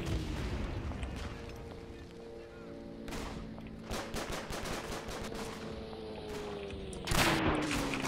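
Rifle and machine-gun fire in the WWI shooter Verdun crackles in scattered bursts, with a sharp, loud volley near the end over distant battlefield rumble.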